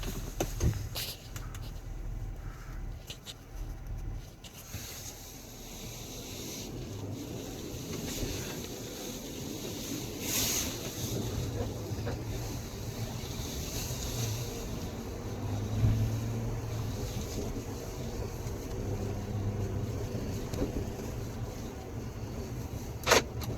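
Lifted Jeep JL on a Rubicon Express 2.5-inch kit with replaced bushings, driving along while the suspension gives occasional faint clunks and pops under a steady rumble of road and wind noise.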